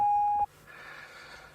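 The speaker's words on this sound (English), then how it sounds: "close your door and it will stop beeping" A C6 Corvette's door-open warning sounds a single steady, loud electronic beep that cuts off abruptly, followed by quiet cabin rustling and soft background hum.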